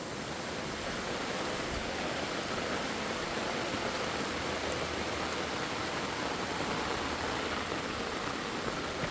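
Steady rain falling outdoors over a garden plot, an even soft hiss throughout with no talking.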